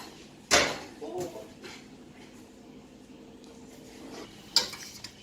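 Sausage is sautéed in a pan for fried sausage with cabbage, with two sharp clanks of utensil on metal and a low, faint sizzle between them.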